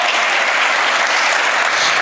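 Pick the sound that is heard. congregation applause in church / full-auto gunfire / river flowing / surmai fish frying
congregation applause in church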